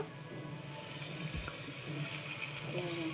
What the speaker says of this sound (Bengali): আমরা গোলাপ জল দিয়ে দিলাম